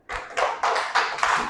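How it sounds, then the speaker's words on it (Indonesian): A classroom group claps together in about five quick, rhythmic bursts, close and moderately loud, with no talking. "tepuk tangan"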